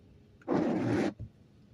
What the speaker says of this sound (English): I know the windshield wipers are loud